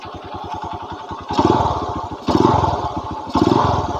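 A Yamaha Mega Pro-style 150cc motorcycle with a bored-out aftermarket exhaust idles in a deep, throaty, rapid, even putter, with three short throttle blips that swell louder.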